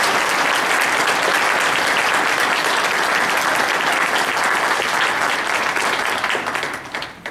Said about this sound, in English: Can I get another round of applause for Mr.